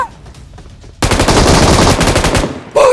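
Automatic gunfire in the mobile game BGMI, a loud rapid burst of shots lasting over a second after a faint quiet start, followed by another short burst at the end.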